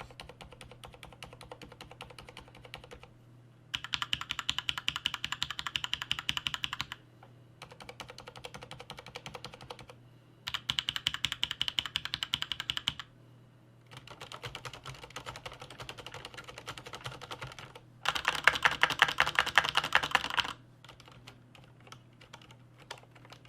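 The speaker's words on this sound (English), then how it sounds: "Let's do a quick sound comparison here between the Cherry MX silent switches and one of my Cherry MX Red keyboards" Typing on a Corsair Strafe RGB MK.2 keyboard with Cherry MX silent switches comes in separate bursts of quick, soft key clatter between quiet gaps, over a faint steady hum and heard close up.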